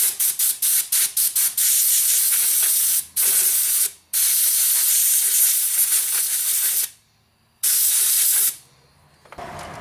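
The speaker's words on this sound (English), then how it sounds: "I'm going to get some compressed air and try blowing that out." Compressed air blasts at the ignition of a 1977 MTD 990 mower, first in a rapid series of short bursts, then in longer loud hissing sprays separated by brief pauses, close to the listener.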